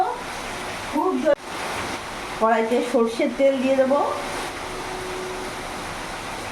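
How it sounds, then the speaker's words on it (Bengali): Heavy rain falls steadily outside as a broadband hiss behind a kitchen cooking a papaya and chana dal recipe, with someone speaking over it in two bursts before the rain carries on alone. "আমাদের এখানে যা বৃষ্টি হচ্ছে বৃষ্টির আওয়াজ তোমরা নিশ্চয়ই শুনতে পাচ্ছ"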